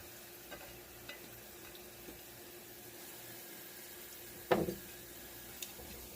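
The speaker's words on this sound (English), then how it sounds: "You want to mix this into the sauce." Two pints of cherry tomatoes being stirred into a sauce in a pan make a quiet, steady low sizzle, with one louder wet scrape midway through.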